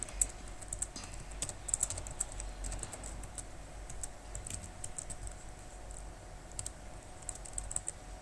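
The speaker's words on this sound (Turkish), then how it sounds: "Ben yazıyorum." A username being typed on a computer keyboard while registering for the online game Wolfteam: steady, fairly quiet clusters of key clicks with short pauses, continuing throughout with no talk.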